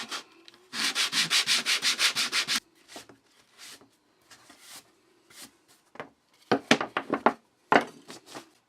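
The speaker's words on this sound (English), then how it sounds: "A little piece of 80 grit sanding belts. Rough up the smooth side" Rapid rhythmic strokes of an 80-grit sanding belt roughing up the smooth side of leather for a strop, a fast run of about a dozen scrapes, then scattered shorter rubs and taps, close up.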